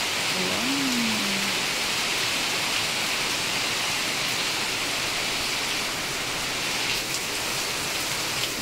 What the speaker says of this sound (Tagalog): Maulan, maaga ang ulan.